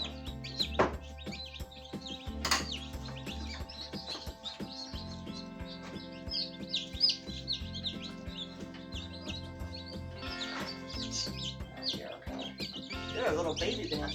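Newly hatched baby bantam chicks fresh from an incubator peep in a constant high, overlapping chorus, close and lively, with brief handling noises and a voice now and then.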